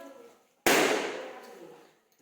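A single sharp balloon pop during children's balloon-popping contest, loud and sudden after a quiet stretch of faint background voices, with a rushing tail that fades over about a second and a half.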